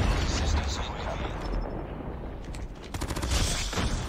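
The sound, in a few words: gunfire from a gun in a video game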